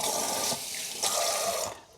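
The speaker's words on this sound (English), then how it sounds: "you want to rinse it with cold water" Cold water runs from a kitchen tap over homemade butter being rinsed, a steady splashing hiss close by that swells briefly twice and then cuts off at the end.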